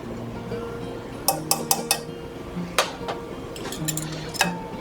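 A spoon clinks against a pan while pepper and salt are stirred into KFC-style gravy, giving a run of sharp metallic taps and scrapes over a soft low simmer.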